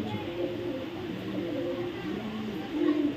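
Red checker pied racing pigeons coo softly in a loft nearby, with low repeated rumbling calls that swell slightly near the end over a faint background hiss.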